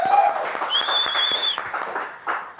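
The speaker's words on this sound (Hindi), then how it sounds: "मिर्ची के लिए तालियां एक बार guys" Applause rises from a small audience at a celebrity interview with film actors, short and moderately loud, with an electronic tone and some background noise running underneath.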